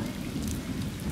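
Heavy rain pours down steadily during a rain-soaked outdoor cricket game, a dense continuous hiss of drops on surfaces filling the whole moment with no pause.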